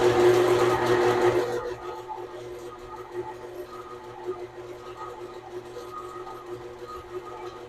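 Stand mixer beating cookie batter in its bowl, a loud motor whir for about a second and a half that then cuts off, leaving a low faint hum.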